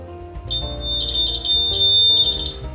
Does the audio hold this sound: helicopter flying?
no